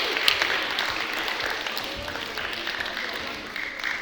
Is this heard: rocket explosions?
no